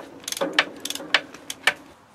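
A ratchet wrench loosens 17 mm nuts on the front axle of a Traction, making quick, close metallic clicks in short bursts of about five or six ratcheting strokes, with no talking.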